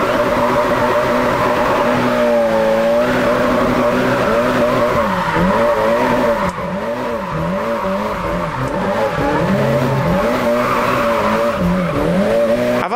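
A car drifts in a drift video game, its tires squealing in long wavering howls over a loud, continuous engine roar that rises and falls with the slides, with no talking.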